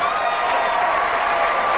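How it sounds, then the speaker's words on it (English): Dense, energetic audience clapping at a speaking event, steady and loud for the whole short stretch, with crowd noise mixed in. "Do that again. The clapping."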